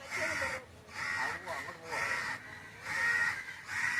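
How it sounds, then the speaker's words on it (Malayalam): A crow caws repeatedly in loud, drawn-out harsh calls, about five of them spaced evenly and close by, with faint background sound between calls. "കാക്ക ഉണ്ട് കാക്ക."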